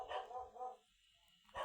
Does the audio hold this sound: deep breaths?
no